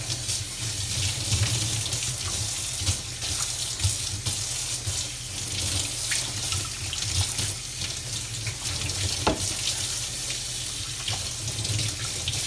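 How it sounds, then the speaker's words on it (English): Tap water runs steadily over a Telecomet Japanese terminal being rinsed in a sink, a continuous close splashing hiss with small irregular spatters throughout. "Let's give it a rinse, and then in the drying rack it goes."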